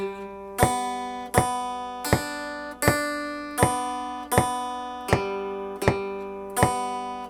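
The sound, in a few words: guitar bass part played without swing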